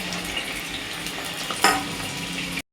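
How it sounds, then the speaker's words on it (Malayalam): Sliced onion, green chilli and ginger dropped into hot coconut oil for a Kerala fish curry, giving a steady close sizzle with a brief louder burst partway through, then an abrupt cut. "ഇത് ആവോലിക്കറിക്കുള്ള സവോളയാണ് കേട്ടോ ഇടുന്നത്."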